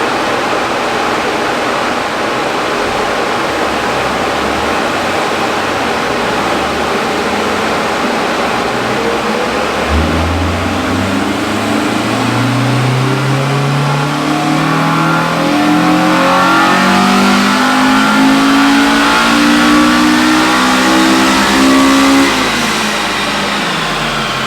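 A Honda EM1 engine tuned all-motor runs a dyno power pull, droning steadily before climbing in a long rising rev sweep that grows louder and higher toward the end, with no talking.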